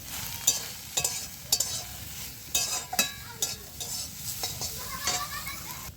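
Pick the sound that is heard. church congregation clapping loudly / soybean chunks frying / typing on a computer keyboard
soybean chunks frying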